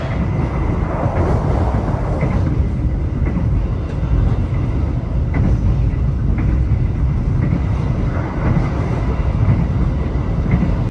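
Inside the Dharma Wangsa passenger train as it runs after leaving Pekalongan station, a loud, continuous rumble of wheels on rail with faint rhythmic clicks of track joints, steady throughout.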